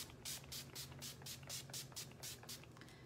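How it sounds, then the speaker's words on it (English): A fine spray bottle of makeup setting spray mists onto a face repeatedly in quick, even pumps, about a dozen short hissing bursts, close and fairly quiet. "So I spray my face down."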